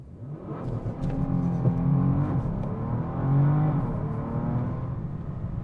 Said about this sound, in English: let's start with the launch control first and see how the car fares